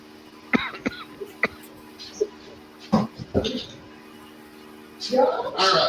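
A person coughs repeatedly in short, sharp bursts with small gaps between them, ending in a longer, rougher run of coughing close to the listener.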